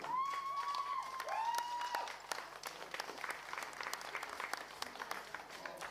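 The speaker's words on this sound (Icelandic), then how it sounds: "Einu sinni enn, gott klapp, eitt í viðbót." A crowd at an Icelandic powerlifting championship claps steadily for the winners, with loud whistles near the start over continuous dense applause.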